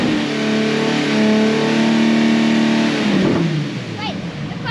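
A Nissan Z engine revving at a race track time attack event, a loud sustained rev that holds and then drops away, with people talking over it.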